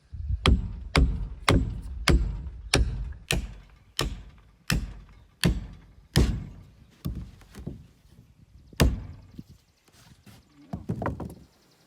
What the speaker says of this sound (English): we just hammer in our little wedge here